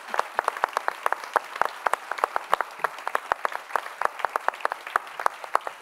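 An audience claps steadily at a Swedish municipal autumn meeting, sharp overlapping hand claps forming a dense, even patter that holds for several seconds, with no voices heard.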